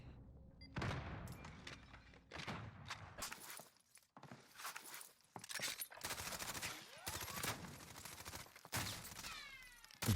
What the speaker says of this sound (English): Bastard's using a shotgun.